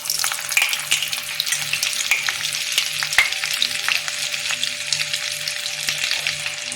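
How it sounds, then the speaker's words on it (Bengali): Butter hits an iron kadai already holding hot oil for a paneer masala, and a loud continuous sizzle follows, close up, with light stirring clinks and scrapes and no talking. "এবার আমি এই কড়াইয়ের মধ্যে বাটার ঢালছি।"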